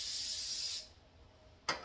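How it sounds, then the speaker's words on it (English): Cooking spray hisses onto food before it goes into the oven, a close, steady spray lasting under a second, followed by a brief second burst near the end. "I'm going to give them one more spray."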